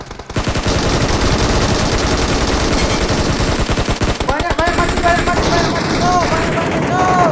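Loud, dense bursts of automatic gunfire from a PUBG Mobile match rattle almost continuously, with rapid repeated shots and a few ringing impacts near the end.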